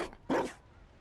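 A dog in the video game Dragon Age: Inquisition gives a single short, sharp bark, close and fairly loud, after a brief soft rustle.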